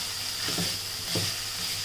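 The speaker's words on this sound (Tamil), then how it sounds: "போட்டு நல்லா வதக்கி விடலாம்." Carrot, beans and mint are sautéed for a wheat rava biryani, a soft steady sizzle broken by two quick stirring scrapes, no voices present.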